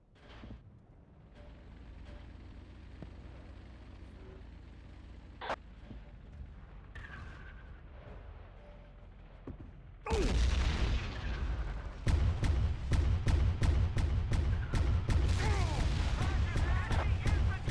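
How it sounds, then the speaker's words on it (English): Artillery shells exploding in Battlefield 1942, starting with a few distant scattered booms over a low rumble, then a loud, dense barrage of rapid blasts and gunfire erupting in the second half. "here we go again with artillery shells"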